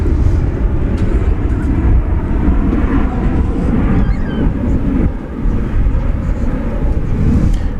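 An American Airlines jet arriving at DFW Airport from Reno, Nevada, makes a loud, steady roar throughout, with low engine rumble and some wind buffeting and no speech.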